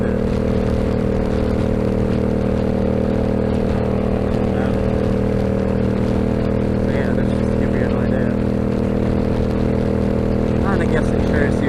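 A cruiser motorcycle rides at moderate speed, its steady engine drone heavy with wind roar that stays loud and constant throughout, with no voices.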